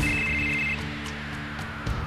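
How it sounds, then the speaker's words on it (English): A telephone ringing in the video game Final Fantasy VII, a steady electronic ring tone that stops partway through, leaving a low background hum and faint soft taps. "Phone call."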